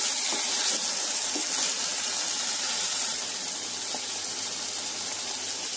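Water poured into an eggplant curry cooking in a pan, a steady broad hiss and sizzle of liquid hitting the hot vegetables, continuous and fairly close throughout with no voices.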